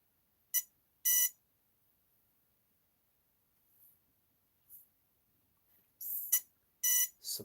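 An RC device fitted with a 3S battery pack gives short electronic beeps, a pair near the start and a cluster toward the end, sharp and isolated against near silence.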